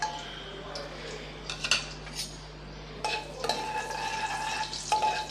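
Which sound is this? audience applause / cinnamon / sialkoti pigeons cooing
cinnamon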